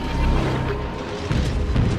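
Naval gun salvo booming in World of Warships, a dense continuous roar of heavy gunfire with low rumbling blasts filling the whole stretch, loud and close.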